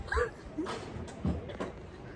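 Dogs whimpering and giving short, high yips at close range, a few brief cries scattered over the moment with faint ambient noise around them.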